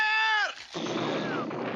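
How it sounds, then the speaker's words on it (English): Cartoon cannons fire into each other: a descending whistle gives way to a loud blast, followed by a rushing, crackling aftermath with a brief falling whistle. "Unfortunately for Boris, he had aimed all 5 cannons right at each other"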